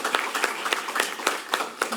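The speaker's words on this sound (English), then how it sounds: "we need to give her a round of applause" Applause for a retiring congresswoman from Southern California at a congressional hearing, a steady wash of clapping from a moderately close audience with uneven peaks of louder claps, no voices heard.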